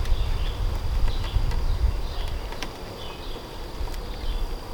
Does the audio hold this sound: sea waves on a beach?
no